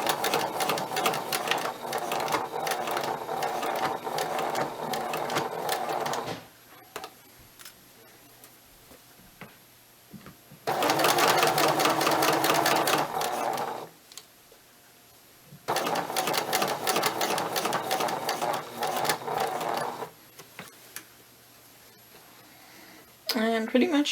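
A sewing machine stitches a sleeve hem in three long steady runs of fast rhythmic clatter, close and loud, separated by quiet pauses with faint handling sounds.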